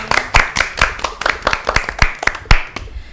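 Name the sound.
audience clapping hands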